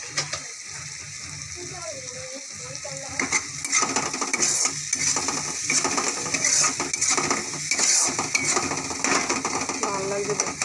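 Masala spice paste sautéed in oil, with a spatula scraping and clinking against the pan in quick repeated strokes over a steady sizzle, close and moderately loud, with a voice heard briefly.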